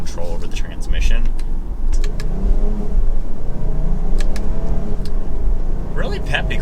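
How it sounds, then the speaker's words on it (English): A 2022 Jeep Grand Cherokee Limited 4x4 accelerates at half throttle, its engine and road noise a steady, moderate rumble from inside the cabin while someone talks over it. "That's just half throttle, you get up to 60 miles an hour."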